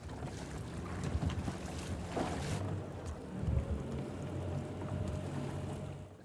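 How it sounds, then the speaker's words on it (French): A fishing boat's motor runs steadily on Lake Como as nets are paid out, a low continuous drone mixed with wind buffeting and water wash, moderately loud throughout with a brief surge near the middle. "Car Valeriano doit dérouler ses filets tout en ajustant la vitesse du moteur."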